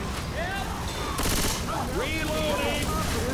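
Bursts of gunfire from Left 4 Dead 2 rattle through a busy mix, with one dense volley in the middle, while chirpy warbling tones sweep above and a voice shouts over the shooting.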